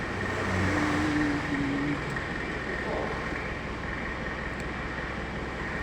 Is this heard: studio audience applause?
no